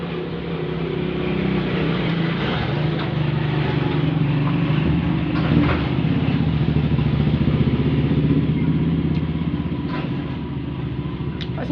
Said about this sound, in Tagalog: Pasensya na kayo sa ingay ah. Matabi lang kasi kami ng kalsada.